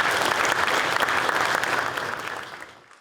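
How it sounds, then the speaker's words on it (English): Audience applause at a town police service awards evening, dense clapping from a crowd that holds steady and then fades out. "A round of applause for all of you."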